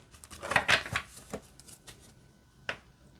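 Thin, flexible oracle cards are shuffled by hand close up, giving a few quick riffling bursts and soft flicks, the loudest near the start, with a faint snap later.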